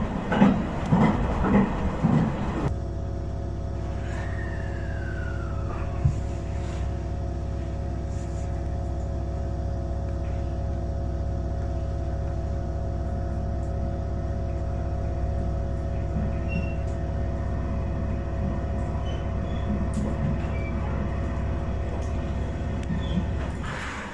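A Tohoku Line train near Sendai, delayed by strong winds, rolls steadily on the rails with a low, constant rumble and hum, after a brief burst of louder clatter at the start; no voices.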